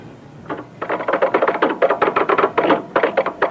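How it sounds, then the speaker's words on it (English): Fingers type patient records on a computer keyboard in an office, a quick irregular run of close, crisp key clicks that starts after a brief quiet moment and continues to the end. "typing all their patient records into the computer"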